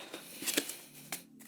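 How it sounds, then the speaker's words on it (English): A tarot card deck being shuffled and cut, with a few soft riffling flutters and light card snaps, quiet and close, with no voices. "I'm going to cut the deck."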